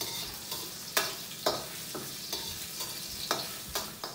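White tofu stir-fried in a pan until golden, quiet steady sizzling punctuated by a regular series of sharp scraping stir strokes about every half second.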